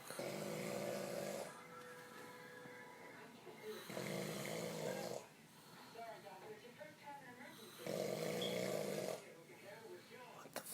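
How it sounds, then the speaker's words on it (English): Loud rhythmic snoring, three long rasping inhales repeating about every four seconds with quieter breathing between, close to the microphone while people talk. "it's snoring loud"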